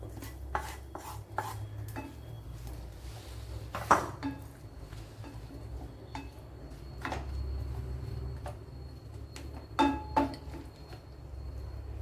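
Cooked vegetable thoran being moved into another pot in a home kitchen, with sporadic metallic clinks and scraping of utensils against vessels, moderately close over a low steady hum, a few sharper clanks standing out.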